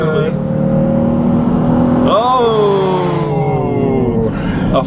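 A 2013 Nissan Pathfinder or Dodge Durango SUV accelerates hard in a 0-60 mph test, heard from inside as a loud engine drone that climbs in pitch, drops at a gear change, then climbs again.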